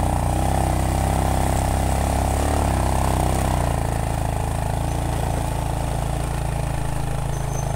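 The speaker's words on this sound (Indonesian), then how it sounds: "suara motor yang saya tunggangi bersama teman ini mulai terasa berat" A motorcycle carrying two riders up a steep, damaged road drones loudly and continuously, its low hum shifting pitch partway through as it labors under load.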